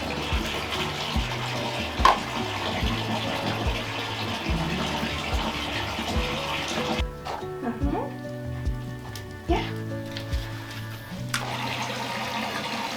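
Water splashes and runs in a bathtub while puppies are bathed, a constant sloshing wash with occasional louder splashes and drips, and a person talks softly over it.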